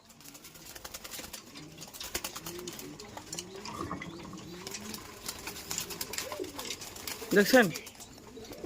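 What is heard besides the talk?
pigeons cooing while eating grit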